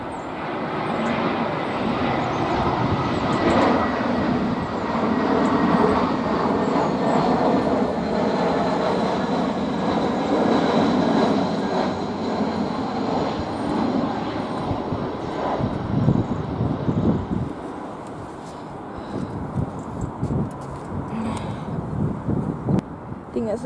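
British Airways Airbus A320 at Heathrow, a steady loud jet engine roar with a faint whine, sustained for most of the stretch before easing slightly, with people talking over it.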